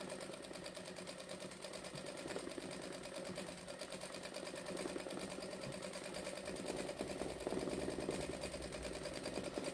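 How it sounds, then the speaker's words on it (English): Sewing machine running steadily during free motion quilting, stitching over built-up thread around teddy shapes; a continuous, dense mechanical whir with rapid needle ticking, fairly even in loudness for the whole stretch. "you can hear the machine when it gets thready. It makes that noise."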